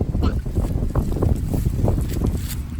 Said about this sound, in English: It is windy today, isn't it?